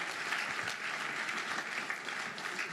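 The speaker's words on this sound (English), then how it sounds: "let's give him a big, big round of applause" Steady, dense applause from a ceremony audience, a continuous round of clapping heard at moderate distance with no talk over it.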